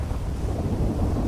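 A thunderstorm in the video game GTA 5: a dense, low rumble of thunder blended with steady heavy rain and some wind buffeting, loud and continuous with no talking.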